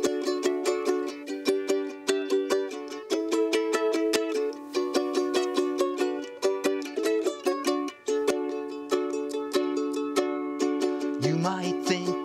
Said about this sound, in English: my cool trick is playing the ukulele